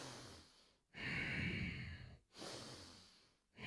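Slow, steady exhales during yoga tricep push-ups, two long breathy outbreaths with short quiet pauses between them, close and soft, with no talking.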